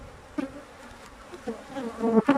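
Honeybees buzz at an open beehive, a close, wavering drone with individual bees swelling louder as they fly past the microphone.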